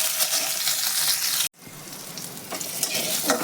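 Bitter gourd frying in oil with a little salt, a steady close crackling sizzle that cuts out abruptly for an instant and then resumes slightly softer.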